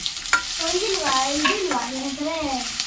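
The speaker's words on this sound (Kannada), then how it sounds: "ಒಗ್ಗರಣೆ ಹಾಕ್ತಿದ್ದೀನಿ ಗೋರಿಕಾಯಿ ಪಲ್ಯ" Spices tempering in hot oil for a cluster bean curry crackle and hiss briefly and close by, with a wavering tonal hum rising and falling over the sizzle.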